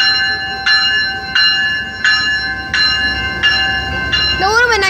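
A train rolls by a railroad crossing, its wheels thumping over rail joints in a steady rhythm while a crossing bell clangs on and on, loud and close, with a brief squeal at the end.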